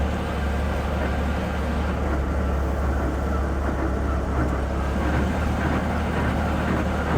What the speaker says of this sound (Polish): troszeczkę obroty, obroty silnika poszły w górę czekamy na obroty wirnika